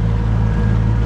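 Motorboat engine running steadily at sea, a constant low droning hum with wind noise over the hull, heading out toward a harbour bar mouth.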